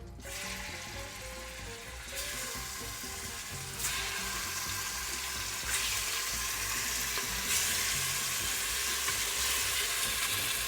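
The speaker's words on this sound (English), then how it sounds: "As soon as that's hot, which you can hear that it is, this meat is all going to go in." Lamb pieces sizzling and frying in a hot pressure cooker for a fenugreek lamb curry, a steady dense crackle that grows louder in stages as more meat goes in, close and continuous with no talking.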